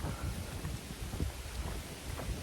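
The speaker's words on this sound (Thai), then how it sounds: "ตอนนี้ฝนเริ่มตกหนักขึ้นมาเรื่อย ๆ แล้วนะทุกคนนะ" Heavy rain pours down in a deep forest, making a dense, continuous patter while low thunder rumbles rise and fall beneath it.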